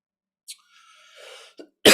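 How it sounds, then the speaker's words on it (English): A single sharp, close cough from someone with a phlegmy cold bursts out at the end after a brief breathy throat sound and quiet. "I apologize for the cough."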